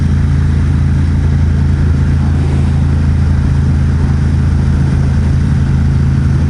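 A 2021 Ducati XDiavel Dark fitted with a Vandemon exhaust and dB killers drones steadily while riding, a loud, continuous low engine rumble mixed with wind noise.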